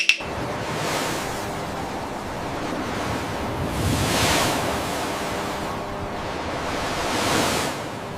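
Wind and sea waves at sea as white-sailed sailing ships cut through the water, a steady broad roar with slow surging swells, loud and close, no voices.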